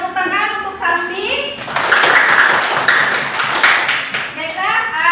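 A classroom of students claps for a classmate after a teacher's prompt, a burst of scattered hand claps rising over a few seconds amid voices, with the teacher's speech before and after.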